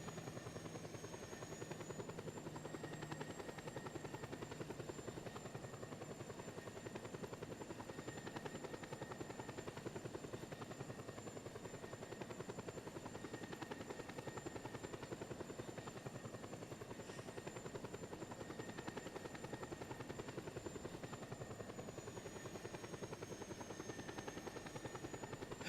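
Helicopter flying in the video game Just Cause 2, a continuous rotor drone with a high whine, steady and unbroken for the whole stretch with no voices.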